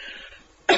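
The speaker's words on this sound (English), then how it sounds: "sorry, my cough." A single sharp cough bursts out near the end, loud and close, after a stretch of quiet room tone with no other talk.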